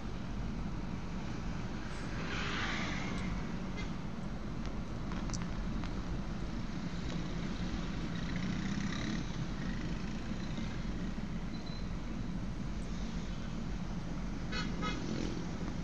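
Cars stream steadily past on the C6 Road in the Philippines, a constant rumbling traffic wash with a few short horn toots sounding faintly at intervals through it.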